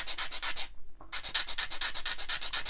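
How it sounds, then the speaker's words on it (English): A 220 grit sanding stick works a scratch-built plastic door for a 1/48 scale Airfix English Electric Canberra kit, giving close, quick rhythmic scrubbing strokes that pause briefly once before resuming, with no voices. "So this is a 220 grit stick, so it shouldn't take all that long."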